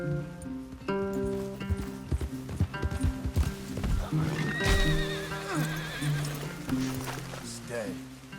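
Horses in the Red Dead Redemption 2 video game whinny and clop their hooves, with several neighs and uneven hoof beats over a game soundtrack, while voices speak throughout.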